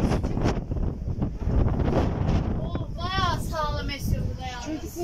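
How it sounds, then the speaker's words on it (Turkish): Strong wind roars at the edge of Valla Canyon near Pınarbaşı, Kastamonu, a loud, constant broadband rush buffeting the microphone, with a person talking over it throughout. "Felaketle esiyor. Bayağı sağlam esiyor burada yalnız."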